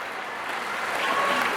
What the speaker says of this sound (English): Huge applause for the 4 players coming off.